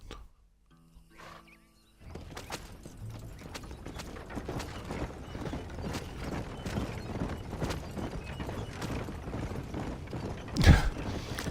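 Horses clip-clop at a steady walk in the Red Dead Redemption video game, hooves clopping with creaking tack over a continuous wash of game ambience, with a sharp louder knock near the end.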